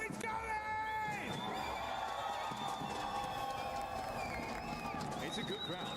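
A large indoor esports arena crowd in Paris roars and cheers continuously at the PUBG Mobile World Cup playoffs, with whoops rising above the steady din and an announcer's voice faintly mixed in.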